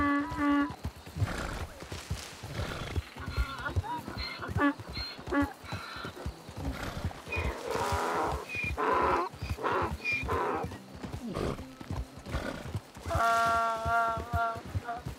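A donkey in the video game Red Dead (RedM) brays and whinnies loudly several times over a run of clattering hooves, the calls close and repeated across the stretch.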